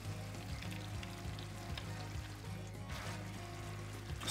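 Mussels added to softened onions in a pan, giving a steady, close sizzle of frying with faint stirring and bubbling, quiet and continuous without voices.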